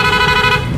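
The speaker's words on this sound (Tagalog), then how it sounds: "Pia horn," Pia horn fitted on a Yamaha NMAX motorcycle, blaring a loud close steady tone with strong harmonics for under a second.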